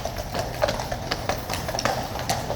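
Horses' hooves clip-clop in a steady, uneven rhythm of sharp knocks, moderately close, against an open outdoor background where tourists are gathered.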